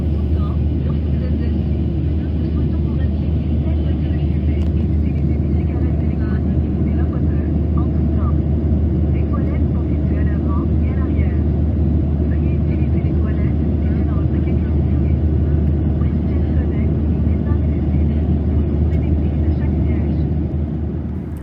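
Steady, loud roar of a WestJet Boeing 737 MAX airliner on departure, heard from inside the cabin as a constant low engine rumble throughout, with faint indistinct voices beneath it.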